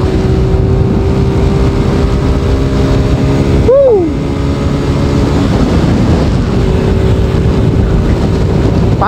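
Motorcycle engine while riding, a loud, steady drone mixed with heavy wind rush. The pitch swells briefly partway through as the engine revs, then settles back.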